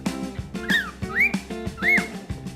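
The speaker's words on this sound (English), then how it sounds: "Wow, you're giving me a whistle." A cockatiel whistles a series of short, bright chirps with rising and falling slides, repeated about three times over a soft rhythmic tapping background.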